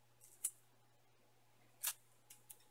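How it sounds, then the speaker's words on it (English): Scissors trimming excess felt around the edges of an embroidered in-the-hoop bag: a few faint, crisp snips spaced apart in a quiet room. "And then we need to cut the excess felt around the edges."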